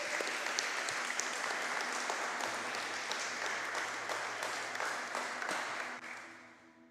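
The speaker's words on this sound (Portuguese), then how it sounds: "Dê uma salva de palmas a Jesus." Congregation applause fills a church after a prayer, a dense steady clapping from many hands that holds for several seconds and then tapers off toward the end.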